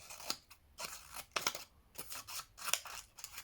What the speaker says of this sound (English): it's cutting fine through the paper